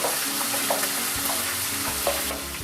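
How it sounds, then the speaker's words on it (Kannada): Green chillies frying with other ingredients in a pan over a low flame, a steady close sizzle with a few soft stirring scrapes, no voices. "ಎಲ್ಲನೂ ಚೆನ್ನಾಗಿ ಸ್ವಲ್ಪ ಹೊತ್ತು ಫ್ರೈ ಆದರೂ ಸಾಕು"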